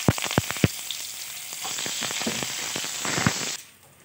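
Chopped onion with bay leaf and potatoes hitting hot oil in a kadai for a jackfruit curry, giving a loud, close crackling sizzle with a few sharp stir knocks before it cuts off abruptly.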